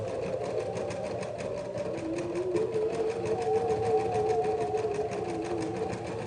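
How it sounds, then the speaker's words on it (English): An embroidery machine stitches a chibi sock design, giving a fast, even mechanical whirring and rapid stitching rhythm close by, with no talking. "We're embroidering chibi sock right now."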